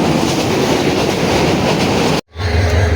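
Steady loud rumble and rattle inside a moving passenger train travelling toward Sitakunda, Chattagram, with continuous wheel and carriage noise, a brief break, then a deeper rumbling drone; no clear talking.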